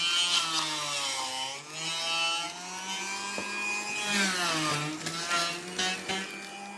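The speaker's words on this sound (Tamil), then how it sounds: "பாருங்க ஆன் பண்றீங்க பாருங்க, முழு பாவக்காடோ அப்படியே போட்டீங்கன்னா உங்களுக்கு ஜூஸ் தனியா வந்துடும், சக்கை தனியா வந்துடும்" An electric 3-in-1 juicer grinds a whole bitter gourd, its motor whining loudly with a pitch that sags and rises as the gourd is forced through, steady and close with no speech.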